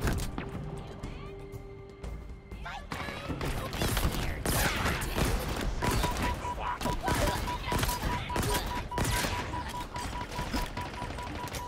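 A weapon firing rapidly in Halo Infinite, loud chattering bursts with metallic impacts layered over game effects, sustained through most of the span after a quieter opening.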